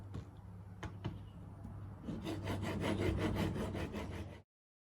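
Chisel being ground on a rough, coarse sharpening stone: steady close scraping and rubbing strokes that grow faster and more rhythmic partway through, then stop abruptly.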